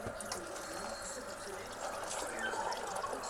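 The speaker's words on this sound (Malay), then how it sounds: "Letak air." Water poured over bean sprouts grown at home, a steady close splashing and trickling stream that runs through the whole moment, fairly soft.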